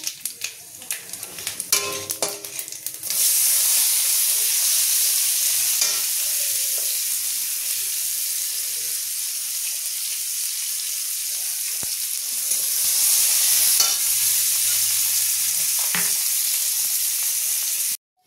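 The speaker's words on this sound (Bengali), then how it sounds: "দেখো পেঁয়াজটা আমি হালকা করে ভেজে নিয়েছি" Chopped onions frying in oil with five-spice in a pan for Bengali rohu fish-head and pumpkin-leaf chachra, a loud, steady sizzle after a few clatters at the start, with occasional stirring scrapes and knocks.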